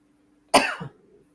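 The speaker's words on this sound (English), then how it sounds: "No, I'm coughing." A single sharp cough, close and sudden, fading quickly into a quiet hum.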